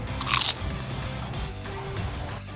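A short, loud crunch of biting into deep-fried shells at a Thai fun fair, heard close up at the start, followed by quieter chewing amid busy fair background noise.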